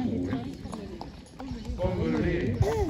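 Hooves of a dappled horse clip-clopping on the ground at an outdoor blessing of horses and riders, steady close footfalls under people talking nearby.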